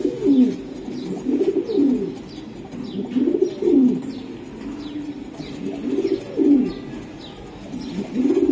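Racing pigeons coo continuously in low rolling phrases, several birds overlapping nearby with soft chirps above, and no talk.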